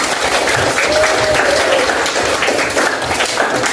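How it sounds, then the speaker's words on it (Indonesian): Classroom applause for the first student group after their presentation in an arts lesson, a loud continuous burst of many hands clapping nearby throughout. "Tepuk tangan untuk kelompok satu."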